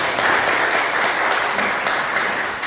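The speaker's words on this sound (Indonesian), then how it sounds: "Kita berikan aplaus dulu." An audience at a classroom presentation claps together, a dense, loud burst of applause that continues without letup.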